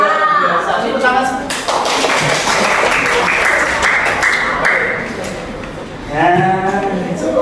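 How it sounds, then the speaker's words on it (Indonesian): Students clapping hands together in a classroom, a dense burst of rhythmic claps lasting a few seconds, with a teacher speaking before and after. "Tepuk tangan."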